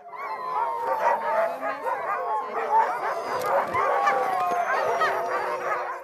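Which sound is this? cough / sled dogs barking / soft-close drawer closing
sled dogs barking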